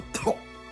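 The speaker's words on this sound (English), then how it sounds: "I have a nasty cough right now." A single sharp cough from a person with a nasty cough, a quick two-part burst that is close and fairly loud, followed by quiet.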